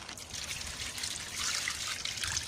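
Water poured over coconut fibre in a garden, giving a steady, fairly faint trickling and splashing wash that runs throughout without pause and without voices.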